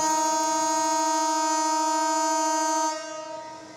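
A long, steady diesel locomotive horn blast sounds loud and near for about three seconds, then cuts off, leaving a quieter engine rumble; the locomotive is an aging engine on a Bangladesh railway.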